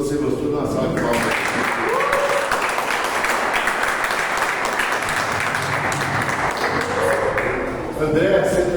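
An audience in a pastoral therapy class gives a round of applause, a dense, steady wash of clapping that lasts for several seconds with voices and cheers mixed in.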